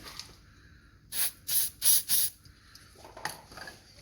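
Four short, loud aerosol bursts of CRC lubricant sprayed onto each end of a GQ Patrol front steering damper. The sharp hissing blasts come in quick succession, followed by faint clicks and handling noise.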